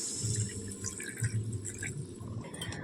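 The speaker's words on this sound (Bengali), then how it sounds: "এবার দিয়ে দেব কিছুটা হাত উষ্ণ গরম জল।" Warm water poured in small amounts into a pot of potatoes cooked down with spices, a soft trickling and splashing over a low steady hum from the stove.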